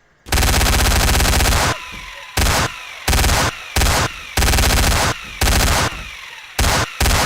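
A minigun in Garry's Mod roars in long continuous loud bursts, starting with a sustained stream, then firing repeatedly in short spurts separated by brief pauses, with no talking.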